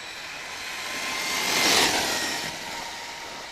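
An electric RC truggy with a Castle Creation 2200kV motor on a 4S LiPo whines past at high pitch, swelling to a peak midway and fading again, with no talking.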